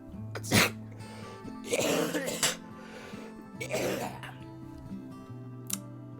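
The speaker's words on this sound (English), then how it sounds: "Sorry about coughing." Several harsh bursts close to the microphone, a sharp cough followed by longer rough coughing fits, with a steady background tone between them.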